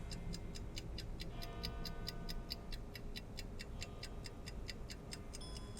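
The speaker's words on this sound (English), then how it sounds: "Okay, so we hear the clock." In the audio game Papa Sangre, a clock ticks in a steady, even rhythm over a low ambient rumble, clear and moderately close throughout.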